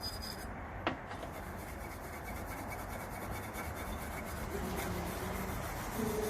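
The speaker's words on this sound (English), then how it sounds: "I'm going to take a brush again, and I want to make sure and get in the creases that the slide moves on" A brush scrubs carbon from the rails and creases of a pistol slide, a steady soft rasping rub close to the microphone with one sharp tap near the start.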